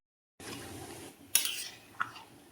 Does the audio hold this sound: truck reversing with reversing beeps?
no